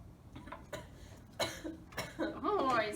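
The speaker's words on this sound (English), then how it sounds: "Oh, I see you're coughing, choking a little bit on that water, huh?" A person coughs after choking on a sip of water, several short rough bursts close by, with a clinician's voice talking around them in a quiet room.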